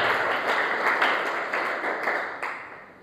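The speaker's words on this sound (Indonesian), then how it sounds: "Beri tepuk tangan terbaik buat Tuhan." A church congregation claps together during a sermon, a steady wash of applause with a few louder surges throughout.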